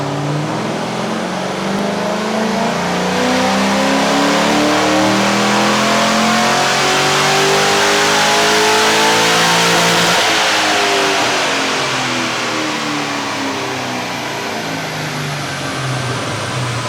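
Holden VZ with an LS1 V8, turbo-style cam and CNC heads, revving hard on a dyno: a loud, sustained engine roar climbing steadily in pitch, then easing back down, close and without talk.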